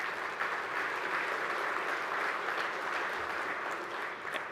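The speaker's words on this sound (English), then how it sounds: "Can we give them a round of applause?" Sustained audience applause for a committee at the opening session of a hardwood industry conference, a dense even roar of many hands clapping at steady volume for the whole stretch.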